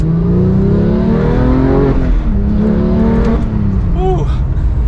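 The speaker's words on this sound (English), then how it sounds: "So if we give it a small acceleration from second gear here," A Porsche 911 GT3 991.2 with a manual gearbox accelerates from second gear, its engine note rising and climbing steadily through the revs, loud and close throughout.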